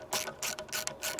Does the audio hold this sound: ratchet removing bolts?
yes